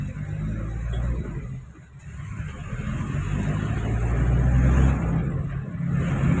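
A car drives past on a road at a red light, a loud low engine rumble that swells, briefly dips, then grows again as the vehicle goes by close to the listener.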